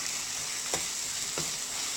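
Onions sautéing in a pan for a fish curry keep up a constant close sizzle, with two brief scrapes of a spoon stirring through them and no talking.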